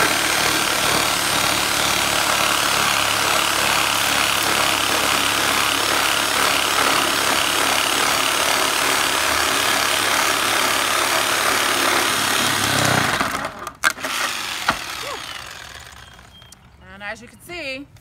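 Fence wood is cut with a long hand saw in continuous, loud, close rasping strokes for about thirteen seconds. The sawing stops, and then come a few knocks and quieter rustling.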